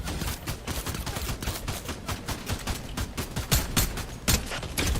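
Assault rifle fire in a Fortnite match, with dense rapid bursts of shots crackling across the whole stretch and a few louder cracks near the end, and no voices.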